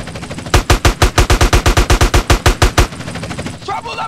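Rapid automatic gunfire in the video game GTA San Andreas, a loud burst of about twenty evenly spaced shots lasting a couple of seconds, followed by quieter game noise and faint voices.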